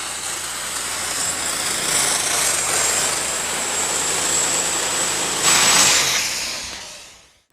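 A John Deere 4444 Turbo super stock pulling tractor roars with a loud, sustained high-pitched turbo scream at a 1996 tractor pull, swelling briefly near the end before fading away.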